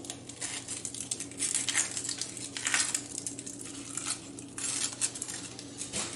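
A knife slices through an onion on a cutting board for barbecue bacon-wrapped onion rings, giving a series of close crisp cuts and crunches that come and go in uneven bursts.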